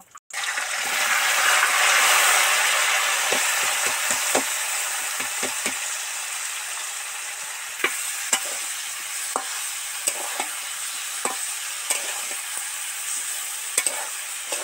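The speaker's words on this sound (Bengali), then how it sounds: "এই যে এঁচোড়টা জল ছেঁকে রেখে দিয়েছিলাম, ওইটা তেলের মধ্যে ছেড়ে দেব।" Steady loud sizzling of jackfruit pieces frying in hot oil, with intermittent clinks and scrapes of stirring throughout.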